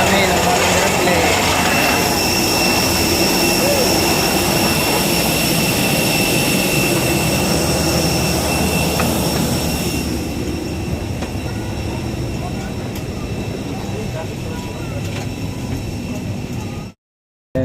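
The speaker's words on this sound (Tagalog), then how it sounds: "So nakasakay na kami ngayon sa aming airplane papuntang Maynila" Jet engine roar fills the cabin of a passenger airplane bound for Manila, a loud, steady broadband rumble with faint tonal hums that drops somewhat in level partway through before cutting off abruptly.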